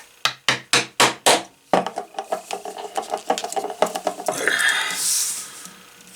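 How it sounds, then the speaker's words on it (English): A hammer drives a punch through a thick leather belt: four loud, evenly spaced strikes, then a quicker run of lighter taps, ending in a brief scraping rustle. "Get all my holes punched through all the way."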